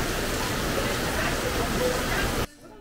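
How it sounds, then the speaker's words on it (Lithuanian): Heavy rain pours steadily in Molėtai, Lithuania, a dense, even hiss that holds loud and constant for over two seconds before cutting off abruptly near the end. "labai smarkiai lyja"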